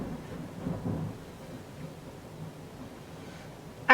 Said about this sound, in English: when there's lightning and thunder, I'm like a scared dog on 4th of July because I love the sound of storms